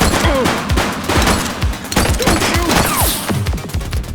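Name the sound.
gunfire in the video game The Precinct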